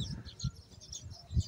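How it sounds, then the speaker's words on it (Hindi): Colorful small birds chirp around nests at a petrol pump in India, short high tweets repeating in loose bursts, fairly faint, with low rumbling background noise and no talking. "देखो कलरफुल वाली चिड़िया हैं ये।"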